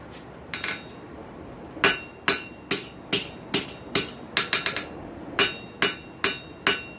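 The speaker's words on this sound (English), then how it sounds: "We'll do a little bit of planishing and straightening, touch-up work in the forge" A hammer rings out on a forged steel paddle bit during planishing and straightening, about a dozen sharp, bright metallic strikes in a loose irregular rhythm, close and loud.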